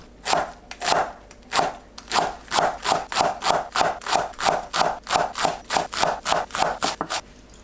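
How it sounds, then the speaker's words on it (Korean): A knife shreds perilla leaves into thin strips on a cutting board, a quick steady run of about twenty crisp chops, close and clear with no talk. "깻잎을 채 썰어서 준비합니다."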